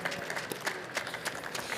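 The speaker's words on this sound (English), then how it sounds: "Why don't we give another round of applause for these extraordinary innovators?" Audience at a health innovation event applauding, a brief patter of clapping from a modest crowd at moderate distance, fairly faint and even.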